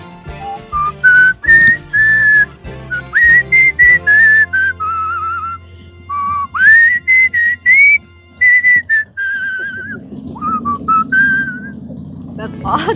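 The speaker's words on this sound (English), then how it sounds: "I love to whistle, so they gave me the nickname Songbird because I'll just come up with random melodies and whistle" A person whistles a made-up melody of short, bright phrases with gaps between them, close and loud, with a low rumble like a passing vehicle entering near the end.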